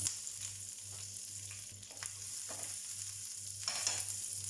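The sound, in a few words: leaves frying in hot oil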